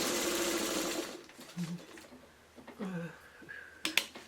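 A sewing machine stitches a quilted pot holder, whirring in a short run at the start and then falling quiet, followed by faint handling sounds and a few small clicks.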